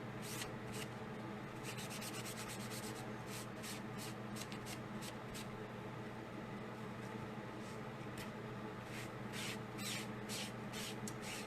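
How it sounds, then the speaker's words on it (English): Excess chalk paste being wiped off a sign with a bleach wipe, a continuous close rubbing and scrubbing sound with quick repeated strokes and small scuffs, steady and without talk. "I'm going to start just wiping some of the excess paste off of here."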